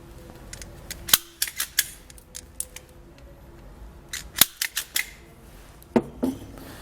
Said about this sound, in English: We're going to cut the loop here, and then we'll strip back each end of the fuse harness.